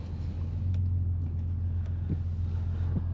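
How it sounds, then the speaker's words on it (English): A 2025 Mercedes-AMG E53 hybrid in Sport Plus mode gives a steady, deep engine drone heard close from inside the cabin, with faint road and wind noise and no clear rise in pitch. "I'll set it to the Sport Plus mode, give it some power."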